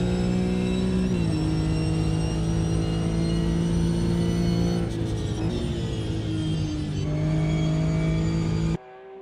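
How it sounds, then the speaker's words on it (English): A Porsche GT4 race car in the Automobilista 2 racing game drones past at a steady high pitch. The engine note dips briefly at gear changes, runs continuously, then cuts off abruptly. "He's coming across the line in the Porsche."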